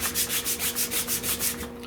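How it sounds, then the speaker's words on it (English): A car taillight bezel is hand-sanded to take out pitting, about ten rhythmic back-and-forth rasping strokes, close and fairly quiet, ending with a softer stroke. "I decided to go on and just sand these down until I start breaking through"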